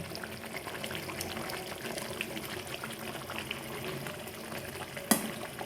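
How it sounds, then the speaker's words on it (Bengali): Raw mustard oil poured over lightly fried hilsa fish makes a soft, continuous liquid trickle and faint hiss with no talk, ending in one sharp click just before it stops. "আমি ওপর থেকে একটু কাঁচা সর্ষের তেল দিয়ে দিচ্ছি"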